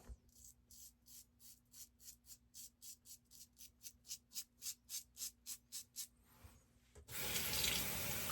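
Bathroom sink tap after a straight-razor shave, first a quick series of rhythmic swishing rinses, then the faucet opening into a steady, close rush of running water.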